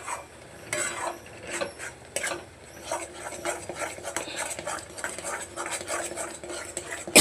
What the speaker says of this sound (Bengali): এবার এর মধ্যে আমি দিয়ে দেবো এই যে গুঁড়ো পাউডারের দুধ রেখেছিলাম, সেটা দিয়ে দিলাম। দিয়ে এবার সুন্দর করে মিশিয়ে নেব।